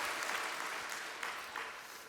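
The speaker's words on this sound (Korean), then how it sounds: "이 시간 우리 존경과 감사의 마음을 담아서 우리 부모님들께 감사의 박수 한번 하겠습니다" A church congregation at a Sunday worship service applauds in thanks to parents, a steady wash of many hands clapping that holds evenly and fades slightly toward the end, moderately distant and without speech.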